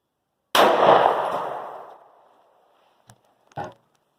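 A SIG 9mm pistol with a 3.7-inch barrel fires a single Koenig 110-grain competition round into water jugs: one loud sharp report that rings out and decays over about a second and a half, followed by two faint knocks.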